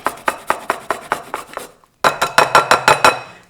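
A whole spice scraped against a small grater over pumpkin pie mixture, quick rhythmic rasping strokes close up, a brief pause, then a second faster run of strokes.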